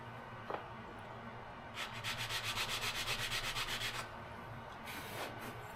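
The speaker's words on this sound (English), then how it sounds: "Sand them on the sanding board" Rhythmic scraping of wood inlay pieces rubbed back and forth on a sanding board, a steady burst of quick strokes with short pauses, close and fairly quiet.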